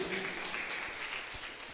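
A church congregation claps together after a call to applaud, a faint, distant wash of steady clapping filling the hall without clear voices.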